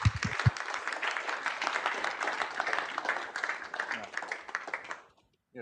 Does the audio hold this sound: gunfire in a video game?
no